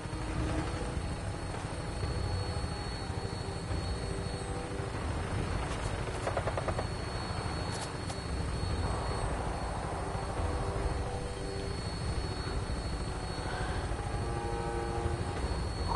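A Brotherhood of Steel vertibird aircraft in Fallout 4 flies on final approach, its rotor and engine droning steadily and loudly throughout with no speech.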